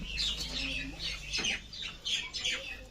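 Domestic pigeons coo and flutter nearby in short, repeated bursts of soft calls, with faint background hum.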